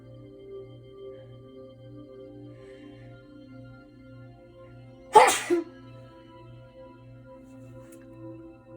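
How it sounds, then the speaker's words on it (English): A single sharp sneeze bursts out midway, loud and close, over a steady low hum with quiet surroundings before and after. "Oh my gosh, I feel like I have to sneeze."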